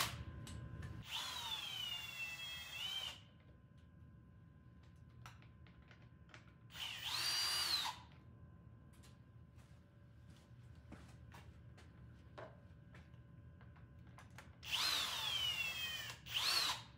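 Power driver spinning out the Torx 30 headlight screws on a 2020 Husqvarna 701 Enduro LR, three separate whirring bursts with a rising and falling whine, close and fairly loud, with quiet gaps between them.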